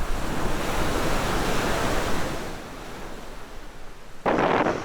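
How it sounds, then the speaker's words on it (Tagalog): Broad rushing water noise of a strong river current in Leyte, Philippines, steady for several seconds before briefly softening, then a sudden louder gust of wind or splashing near the end. "Malakas pa rin kasi ang agos ng ilog kahit na maganda ang panahon."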